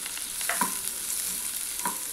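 Onions with vegetables such as carrot, beans and fresh green peas sautéing in a pan for vermicelli upma: a continuous sizzle with a few soft stirring scrapes, close and moderately loud.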